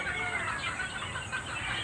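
Soft, busy clucking from a group of chickens, blended into a dense background hum.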